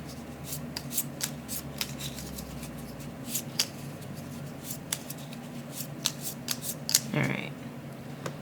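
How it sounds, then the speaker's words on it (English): Cardboard tiles from the board game Harvest, Golden Edition, shuffled by hand on a table in a solo session, give quick, irregular clicks and scrapes over several seconds. A voice talks quietly underneath. "we'll need to shuffle these tiles back"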